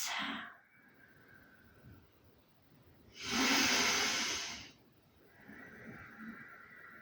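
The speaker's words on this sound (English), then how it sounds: "Nice deep breaths." Slow deep breaths during a seated hip stretch, a long loud airy exhale in the middle framed by softer breathing, close to the microphone with no speech.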